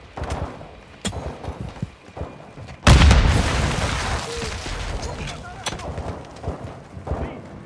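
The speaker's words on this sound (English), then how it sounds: "Crash site is taking rocket fire from building two!" Rocket fire explodes at a crash site in Call of Duty Modern Warfare 2 with one heavy boom, preceded by scattered sharp impacts and followed by a lingering rumble, while radio voices speak over the action.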